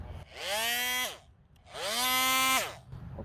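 An oscillating multi-tool with a WonderBlade cuts copper pipe in two loud, buzzing bursts of about a second each, separated by a short pause, close up.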